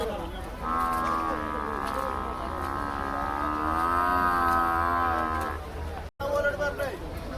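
Large bulls at a cattle market give a long, loud, sustained moo up close, with a brief shorter call afterward amid market background noise.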